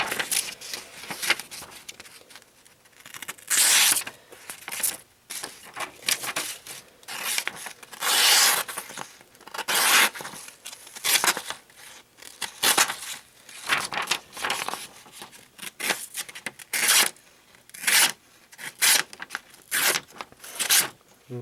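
A Mora Classic No 1 carbon steel knife slicing through a sheet of paper, giving a run of short, crisp rasping cuts in quick bursts with brief pauses, close and fairly loud with no talking.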